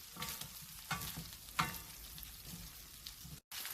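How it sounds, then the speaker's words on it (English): Diced onion and chopped chili sizzle with beef in a wok for Indonesian fried rice, a soft steady frying hiss broken by a few scraping stirs of a spoon, fairly quiet and without voices. "Let everything sizzle together in the wok for a moment"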